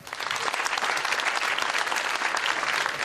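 Audience applause fills a live comedy show by a performing duo, steady dense clapping at full volume from start to finish without a break.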